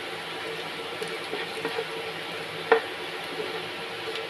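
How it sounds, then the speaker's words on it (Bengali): Onions with spices stir-fried in a pan for a soybean roast, a steady close sizzle with scraping stir strokes and one sharper clack near the end, no voices. "এখন আমি একটু মশলা দিয়ে কষিয়ে নিব।"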